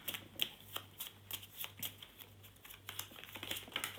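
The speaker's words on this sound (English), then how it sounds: "I need to shuffle and draw 2" Playing cards from the Volfyirion card game shuffled by hand at a table, making a quick run of crisp riffling bursts in an even rhythm, close and fairly soft.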